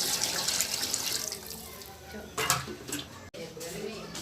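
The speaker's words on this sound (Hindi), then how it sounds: "ये 2 किलो चावल में हम पानी डालेंगे," Water pours steadily into a metal pot for cooking 2 kg of biryani rice, with a hissing splash that fades, followed by a few light clinks of kitchenware.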